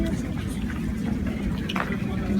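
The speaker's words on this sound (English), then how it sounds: "Beautiful water fountains." A public water fountain in front of the castle in Nyon, Switzerland runs with a steady splashing and gurgling stream, fairly close and continuous.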